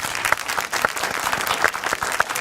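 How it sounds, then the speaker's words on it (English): A crowd claps steadily, a dense patter of hands applauding together at close range without pause. "I can clap for that."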